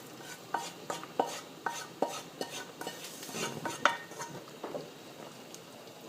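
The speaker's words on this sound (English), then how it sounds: "you should stir it fast so you don't create the clumps" A spoon stirs roux through carrots and peas in a pot, with a run of light, fairly regular scrapes and clinks against the metal at close range and no talk.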